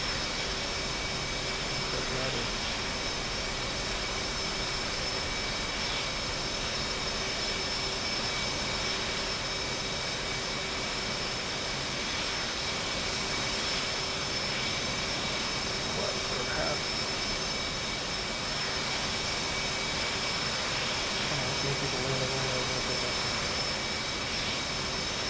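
Aircraft engine in the video game Bomb Buds roaring steadily through a takeoff, a loud continuous jet-like drone that persists for the whole stretch with little change.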